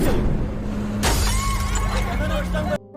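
A sudden sharp crash of a bus window shattering cuts through, followed by tinkling debris, over a low rumbling bus engine and voices.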